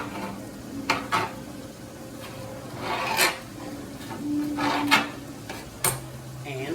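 A knife chops on a loud, clattery cutting board while taco salad is prepared: a few sharp, separate knocks spaced a second or so apart over a quiet kitchen background.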